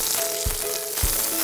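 Potatoes sizzling in oil on a Muurikka grill pan outdoors, a continuous bright crackle with two soft low thumps partway through, close and fairly loud, with no one talking.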